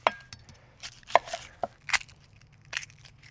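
A knife chopping an onion outdoors, cutting it into wedges with the root attached. Several sharp, separate cuts land on a board in an irregular rhythm, close and clear, with a low hum underneath.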